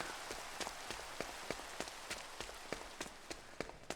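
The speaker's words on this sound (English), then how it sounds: "Oh, this Minecraft rain." Minecraft rain falls as a steady, fairly faint hiss, with quick pattering ticks scattered throughout and no voices over it.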